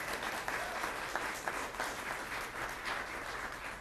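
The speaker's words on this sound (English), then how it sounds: "So let's give another round of applause to Jay Inslee." Audience applause at a clean energy announcement, an even, continuous round of clapping from a large crowd at moderate distance.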